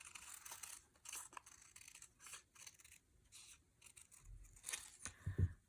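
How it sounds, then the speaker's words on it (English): Scissors snip out a gauzy fabric bird wing from a paper template in a series of quiet, close, crisp cuts with brief pauses between them. "So let's get our wing template here. And let's just cut out our wing."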